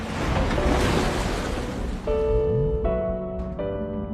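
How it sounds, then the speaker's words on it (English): Rushing seawater flooding a crashed plane's cabin in a dramatic film scene, a loud continuous roar of churning water with tonal groaning and creaking sounds layered over it, no voices. "The moment it hit the water, seawater flooded the cabin instantly."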